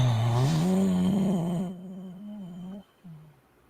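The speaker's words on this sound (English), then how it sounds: "No snoring in the mic." A person snoring loudly into a radio studio microphone during live election coverage, a deep rumbling drone with a wavering pitch that fades and breaks off in short snorts toward the end.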